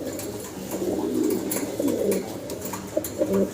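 Pigeons at a pigeon farm give low, repeated throaty coos, close and moderately loud over a soft background hiss, with a few sharper flutters near the end.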